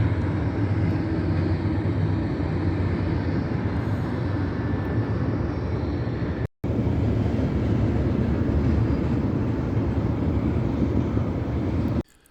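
A CSX freight train rumbling steadily over a bridge on the St. Johns River in Florida, heard as a continuous heavy low roar close by from a houseboat, with a brief break midway.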